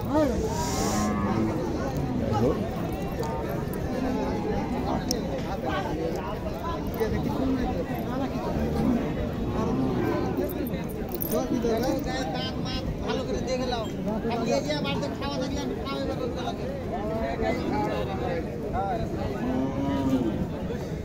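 Cattle, including Sahiwal and local calves, lowing at a busy village livestock market in Naogaon, long moos rising over a constant crowd babble and nearby talk.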